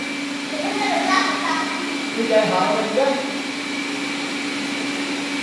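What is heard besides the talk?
Xiaomi robot vacuum cleaners running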